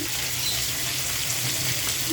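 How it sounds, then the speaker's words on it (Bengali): Pieces of magur catfish fry in hot oil in a pan, a loud, steady, close sizzle with a faint stirring scrape. "মাছটা প্রথমে ভেজে নিচ্ছি"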